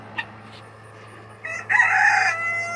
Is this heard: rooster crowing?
yes